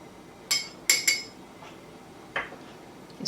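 A spoon clinks sharply against a bowl while sugar and dry active yeast are stirred into lukewarm water, four or five bright taps at irregular intervals, close and alone.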